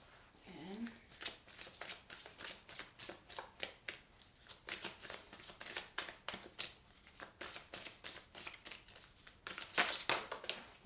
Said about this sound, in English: find it hard to shuffle these today